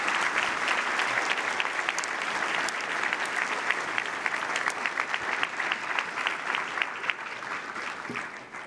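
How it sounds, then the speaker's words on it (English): A conference audience applauds steadily with dense clapping that stays even for the whole stretch, a full room of hands without voices above it. "acknowledged for a round of applause."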